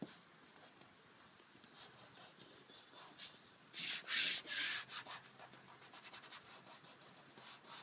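Vinyl sticker being rubbed down firmly onto a surface, quiet scratchy strokes that build to several louder rasping swipes midway, then lighter repeated rubs.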